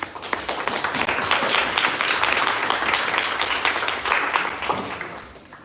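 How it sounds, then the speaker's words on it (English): A conference hall audience at the Erasmus Mundus Association annual meeting gives a steady, dense round of applause, close and fairly loud, with no break for nearly six seconds before it fades at the end. "Round of applause for Sharon."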